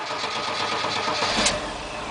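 Chevy 4.3 V6 swapped into a Chrysler truck cold-starting and running rough and loud, a dense, steady mechanical clatter with a brief catch near the end.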